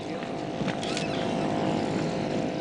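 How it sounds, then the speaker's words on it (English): A small outboard motor drives a curragh, a traditional Irish keelless canvas-hulled fishing boat, its steady engine drone running loud and unbroken across the whole stretch. "The outboard motor is no stranger to the Curragh."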